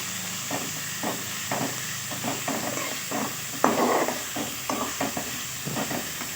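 Onion and curry leaves sauté in a pan with a steady soft sizzle, while a spoon scrapes and stirs in irregular bursts close by.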